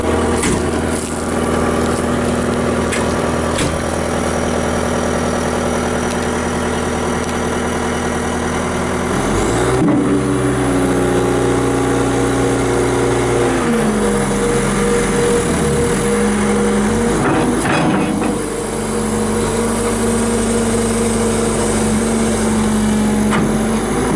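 A 2008 Caterpillar 277C XPS compact track loader with a high-flow setup runs steadily for the whole stretch. Its diesel drone is close and loud and shifts pitch as the engine revs up and settles back.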